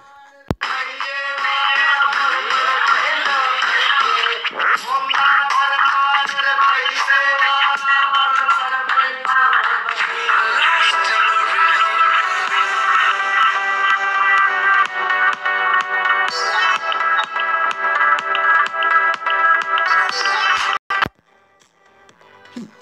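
Ringtone-style music playing from a single speaker of an Android phone, continuous and loud with dense melodic tones for about twenty seconds, then cutting off abruptly near the end.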